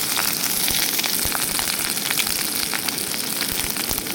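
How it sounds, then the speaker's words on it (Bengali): Chopped onions with a dried red chilli and bay leaf frying in hot mustard oil give off a steady, close, crackling sizzle that holds evenly throughout with no voices. "পেঁয়াজটা ভালোভাবে ভেজে নেব।"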